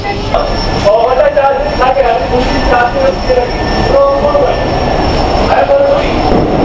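A Kolkata Metro Green Line train rides along with a loud, steady rumble and whine, wheels clattering beneath, while people talk inside the carriage, heading to Howrah.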